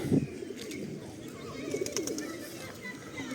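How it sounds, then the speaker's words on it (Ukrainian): Soft pigeon coos in a quiet spa town street in spring, a few low throaty calls near the start and middle, faint against quiet background. "Голуби."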